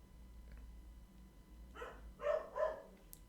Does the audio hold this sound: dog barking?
yes